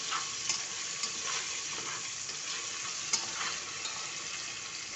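Potatoes and peanuts fry in hot oil in a pan, giving a continuous close sizzle with soft scrapes as they are stirred. No one speaks.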